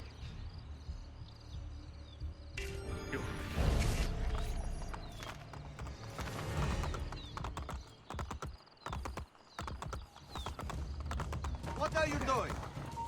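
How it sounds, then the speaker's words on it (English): Horse galloping in Assassin's Creed: Brotherhood during an escort from Castel Sant'Angelo, hooves clattering in quick irregular runs amid game effects and scattered voices, moderately loud with shouts and bursts of action layered over it. "Escort Catalina on horseback as she flees from the Castel Sant'Angelo"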